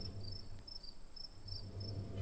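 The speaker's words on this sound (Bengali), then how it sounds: "ঝিঝি পোকার ডাক শোনে যাচ্ছে" Crickets chirp in a steady high-pitched pulsing trill on a quiet moonlit village night, faint and continuous with low background hum.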